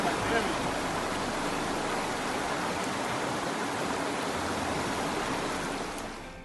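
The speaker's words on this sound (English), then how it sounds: "you will come to Kleinbos River. This is your first river crossing on the Otter Trail." The Kleinbos River on the Otter Trail in South Africa rushes at its first crossing, a loud, steady broadband wash of flowing water that eases slightly at the very end.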